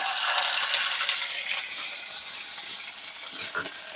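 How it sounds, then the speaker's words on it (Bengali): Paste from a large onion hitting hot oil: a loud, bright hiss that gradually fades and thins over a few seconds, with a brief clink near the end and no voices. "পেঁয়াজটা হালকা করে একটু ভেজে নেবো"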